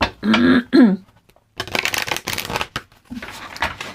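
Oracle cards are shuffled in quick riffling bursts, then pause, followed by more shuffling and handling, close and crisp; a short throat-clearing sound comes near the start.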